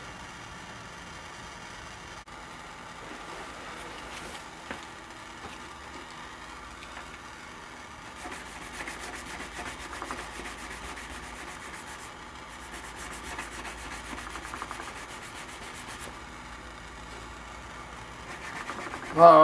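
Sandpaper rubs back and forth across a radiator surface to prep it for joining, a faint, steady scratchy rasp that grows busier midway, with an engine-like hum underneath.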